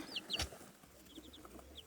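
Newly hatched chicks and chickens in a garden, with faint high peeps and soft clucks scattered through a quiet stretch and one brief louder bump near the start.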